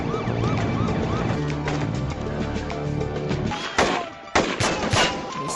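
Dense gunfire from a police and drug cartel shootout at a border fence in the 2008 film The Shepherd, rapid continuous shots over a music score and sirens, ending in a few louder separate bursts.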